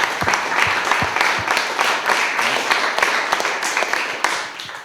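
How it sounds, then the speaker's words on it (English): A crowd at an urbanism talk evening applauds the speakers, loud and dense clapping that holds steady throughout. "Another applause for them, please."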